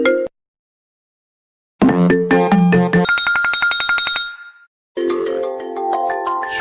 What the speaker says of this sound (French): il met les sonneries snap. C'est-à-dire qu'il se met en sonnerie, un snap, ça le réveille